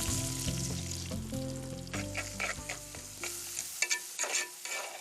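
Onion and garlic stirred into hot oil with spitting mustard seeds, crackling and sizzling steadily with intermittent scraping and stirring clatter, close and fairly loud, while a tonal background hum fades out partway through.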